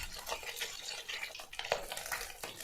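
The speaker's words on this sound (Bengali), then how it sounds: "আমি এইভাবে মাছগুলো ভাজতে থাকবো।" Pieces of katla (rohu-type carp) fish frying in hot oil for a home-style kalia, a soft, steady crackle with faint clinks of a utensil, close and quiet, no voices.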